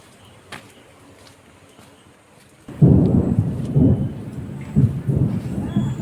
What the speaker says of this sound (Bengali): মেঘ ডাকছে প্রচণ্ড,